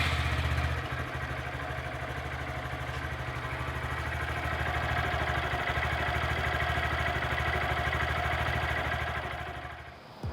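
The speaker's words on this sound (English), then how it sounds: "I'm going to go ahead and fire it up, let it idle for a bit, and then check the levels" A Honda Grom motorcycle engine idling steadily just after an oil change, a continuous close mid-pitched putter with light mechanical clatter that tapers off at the end, with no talking.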